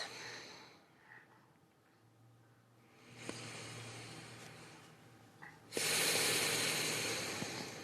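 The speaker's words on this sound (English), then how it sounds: "Starting our practice with some big, deep, grounding breaths." Slow, deep yoga breaths sound close and quiet: a long hissing inhale, a brief pause, then a fuller, louder exhale through the nose or mouth, with no talking.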